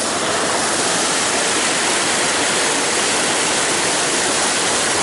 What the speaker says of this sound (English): You can see in the video the big waterfall just trickling all the way down.